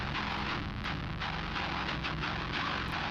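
A dry deathcore guitar riff with no effects, pitched down an octave, churns as a dense, heavy, distorted low rumble with chugging palm-muted hits, loud and alone.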